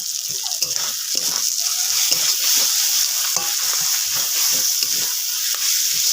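Spice paste cooking down with tomato, turmeric, salt and dried chili powder in a pan for a Bengali mutton curry, loud continuous sizzling broken by rhythmic scraping strokes of the spatula, close up.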